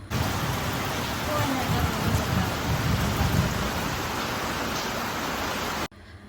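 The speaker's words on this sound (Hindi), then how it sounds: "थोड़ी देर बाद ही बहुत तेज़ बारिश आ गया था" Heavy rain pours down steadily in a dense, loud wash that continues without a break before cutting off abruptly near the end.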